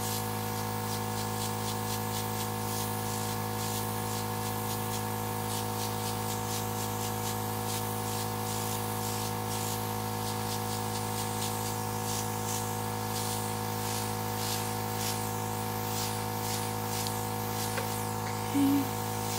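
An airbrush sprays water-based Dinair makeup onto a face in a continuous soft hiss over the steady hum of its compressor, with no pauses throughout.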